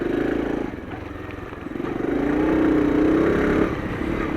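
A CT motorcycle rides along steadily in one gear over soft shingle, its engine droning loud and close with a slight swell in the middle and no letup.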